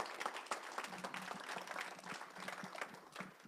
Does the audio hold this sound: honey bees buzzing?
no